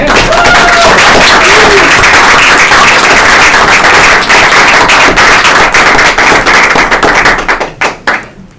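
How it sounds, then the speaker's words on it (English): After a university lecture on gender and empire in Lusophone culture, the audience claps in a loud, dense burst that thins into a few scattered final claps. "let's give her applause."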